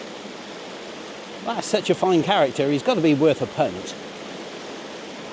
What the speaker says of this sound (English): excuse the water noise